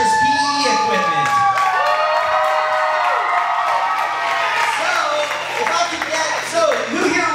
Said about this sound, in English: can I get a round of applause for that?